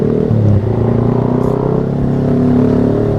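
A motorcycle fitted with a loud aftermarket brong racing exhaust rumbles steadily close by, a deep throbbing idle with a slight rise in revs and no talking.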